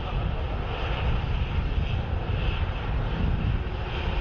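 Ryanair airliner arriving at Dublin Airport from Berlin, a steady, loud jet engine roar that holds for several seconds with no talk over it.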